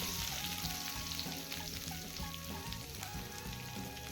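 Chopped onions added to hot oil with cumin and black pepper in a pan give a steady, moderately faint frying sizzle over a tonal background hum, with no speech.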